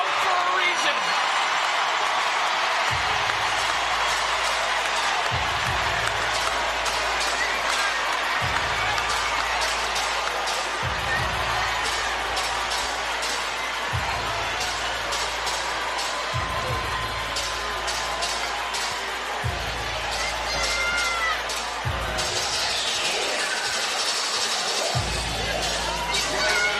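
An arena crowd in Flint roars and applauds continuously after a boxing fight, a dense wash of cheering and clapping with a rhythmic low thumping beneath and a commentator talking over it.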